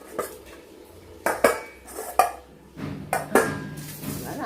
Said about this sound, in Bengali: আমি ভাতটা মাখিয়ে দিচ্ছি।